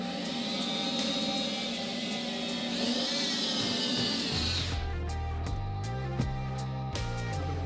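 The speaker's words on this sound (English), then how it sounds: "And now I'm just going to drill" A power drill whines steadily as it bores slowly through a wooden pinball cabinet, then the pitch drops and the motor runs on with lower, rougher tones and scattered knocks.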